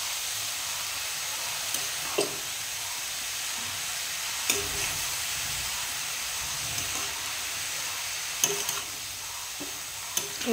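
Bottle gourd and shrimp curry is stirred in a pan with salt and turmeric, giving a steady soft sizzle and hiss with occasional brief scrapes of the spoon against the pan.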